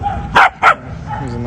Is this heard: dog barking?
yes